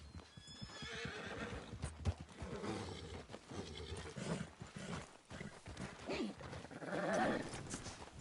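A horse in the video game Red Dead Redemption 2 neighs and whinnies restlessly, with snorts and shifting hooves, several close calls rising and falling over about eight seconds.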